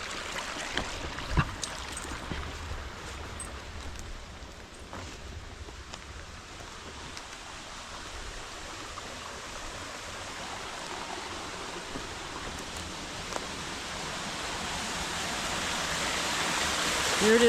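Steady broadband rush of a creek and waterfall rolls on without a break, nearby and fairly quiet, and grows slightly louder toward the end. There is no talking.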